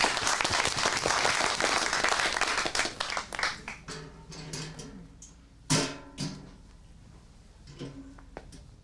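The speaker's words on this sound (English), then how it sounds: "Round of applause." An audience at a live improv comedy show in Phoenix breaks into brisk applause that is loud at first, thins into scattered claps after about three seconds, and ends in a few isolated hand claps and small knocks.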